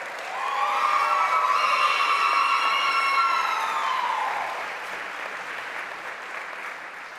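Sustained crowd applause at a veterinary medicine white coat ceremony, loud and steady from the start, with a ringing tone layered over it early on, then thinning slightly toward the end.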